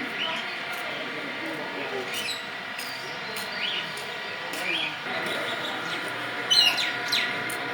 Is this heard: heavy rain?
no